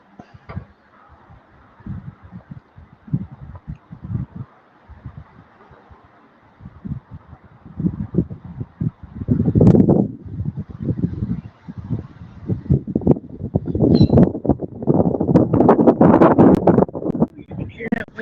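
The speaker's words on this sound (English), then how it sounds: "You can hear that wind just kicking up, boy" Wind gusting outdoors along a levee, a rough, buffeting roar against the microphone that builds and surges in the second half while someone talks over it.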